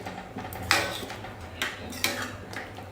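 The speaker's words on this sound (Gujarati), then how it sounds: "અને ફરીથી મિક્સ કરી લઈશું." A utensil stirring an eggplant mixture for Kathiyawadi ringan no olo in a metal pan, with a few distinct scraping clinks and taps spaced out over a quiet kitchen background.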